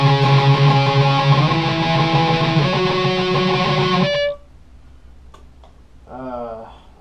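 Electric guitar playing a riff with backing music, loud and steady chords for about four seconds, then a sudden stop into near silence with a short faint sound after.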